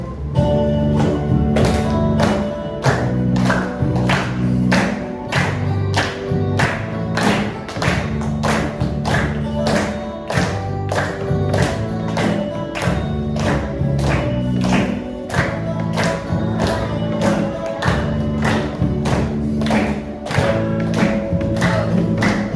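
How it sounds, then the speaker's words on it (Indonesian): A class claps along in steady time to a sung song, with regular, evenly spaced claps over the music and singing from start to finish. "Boleh sambil tepuk tangan."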